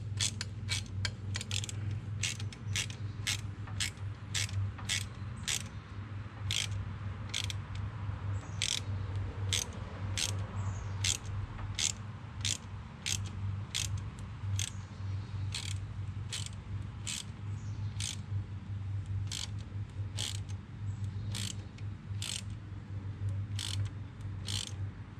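A ratchet and socket turn a glow plug into a Ford 7.3 IDI diesel engine, giving a long run of sharp, evenly spaced clicks that keep a steady rhythm close by, over a constant low hum.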